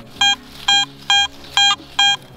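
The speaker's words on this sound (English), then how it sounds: "I have a signal over here that's got a sweet sound to it" A metal detector sounds over a buried rivet at a 1700s cellar hole site, giving five bright, evenly spaced beeps, loud and close, with quiet gaps between them.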